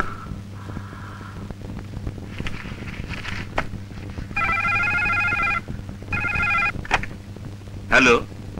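A telephone rings in a Bangla film scene as a staged fake call, with two distinct bursts of a warbling electronic ring, the second shorter, near and fairly loud amid faint room sounds.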